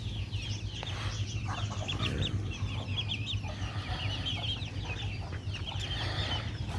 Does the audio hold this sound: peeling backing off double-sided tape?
no